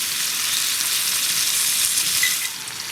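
Sugar-glazed carrots frying in grapeseed oil with sugar and molasses, a dense, loud, unbroken sizzle heard up close, easing slightly near the end.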